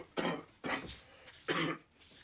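Three harsh, separate coughs spaced roughly evenly, close and fairly loud, with quiet gaps between them and no talk.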